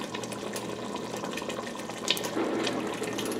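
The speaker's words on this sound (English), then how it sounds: "Oh, I wish you could see it bubbling." A pot of sauce bubbles and simmers with a steady, soft gurgling texture and occasional small pops.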